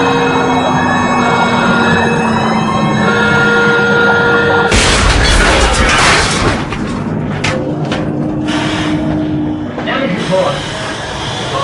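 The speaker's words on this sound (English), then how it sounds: "The depth charge is going to come in, and there's going to be a very big bang" A depth charge explosion from an anti-submarine trawler near Portsmouth bursts out as a sudden loud broadband boom, followed by several seconds of rumbling, churning decay, with a steady tonal hum under it beforehand.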